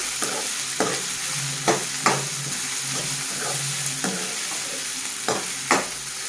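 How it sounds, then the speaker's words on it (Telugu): Tomatoes and carrots fry in a pan with ginger-garlic paste for tomato bath, a steady close sizzle broken by several sharp scrapes and knocks of a spatula stirring against the pan. "అలాగే ఇందులో టమాటోలు, క్యారెట్ యాడ్ చేసుకున్నాము"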